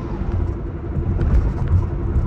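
A Tesla driving on Full Self-Driving produces a steady low road rumble and tire noise from inside the cabin, moderately loud and continuous with no talking.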